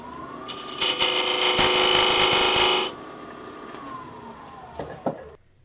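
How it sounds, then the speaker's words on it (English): A shop-made recess tool cuts a recess into spinning wood on a lathe, a steady loud scraping whir lasting a couple of seconds within a lower running hum, followed by a few sharp clicks. "I'm going to use this shop-made version of a recess tool."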